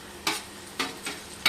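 Garlic and velagakaya (wood apple) pieces frying in a pan, heard as three or four brief bursts of sizzle and stirring scrapes spaced apart over quiet background, fairly close and with no voices.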